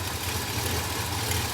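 The V8 engine of a 1966 Cadillac Eldorado runs steadily with a low rumbling throb and broad mechanical hiss, loud and close, holding an even speed without a clear rise in revs.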